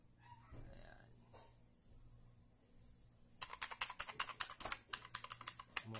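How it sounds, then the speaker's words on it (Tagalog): Rapid clattering keystrokes on a cheap mechanical keyboard fresh from unboxing begin about halfway through, loud and close after a quiet stretch of faint room noise. "Mukha namang legit siyang mechanical keyboard."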